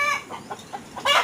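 Several clucks from Tiger breed chickens come in short separate bursts, close by, with a louder squawk-like call at the end and no talking.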